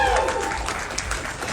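Audience applause at the IFC 2022 opening ceremony, a brief steady wash of clapping from a crowd, fairly loud and dense throughout.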